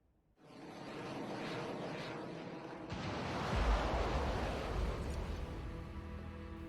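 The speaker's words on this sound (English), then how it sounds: "Our anti-aircraft is now engaging fighters." Fighter jets roar overhead while anti-aircraft fire engages them in the Conflict of Nations war strategy game, a dense, continuous rumble that starts abruptly and swells louder partway through.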